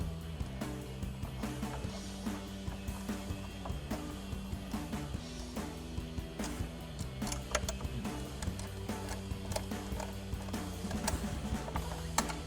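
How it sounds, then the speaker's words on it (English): A Phillips screwdriver drives screws into a Jeep Wrangler JK headlight bracket, giving a continuous ratcheting, clicking mechanical sound close by with no talking. "We'll take a Phillips head screwdriver to run our screws in."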